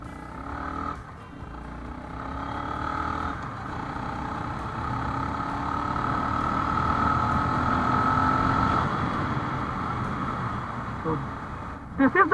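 A Honda CB350 RS motorcycle engine drones steadily as the bike pulls in third gear, the rising pitch masked by strong rushing wind noise, with a brief shift near the end.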